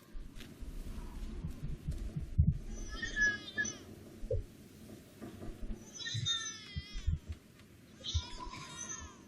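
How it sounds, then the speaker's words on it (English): Bursts of high, wavering baby cries in the video game The Park come and go in short spells over low background sounds and faint voices. "Why do I hear a baby crying?"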